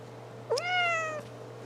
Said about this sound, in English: I love this cat so much.